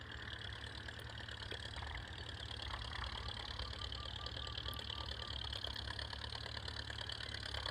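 Steady low mechanical rumble of a distant tractor engine chugging continuously at a sugarcane planting field, faint and unchanging, with light ambient noise over it.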